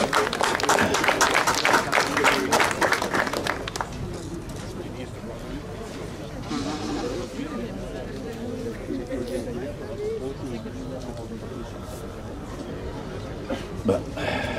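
Audience applause at a koi show award ceremony in Wattrelos: a burst of loud clapping for about four seconds, then fading into crowd chatter and a speaking voice.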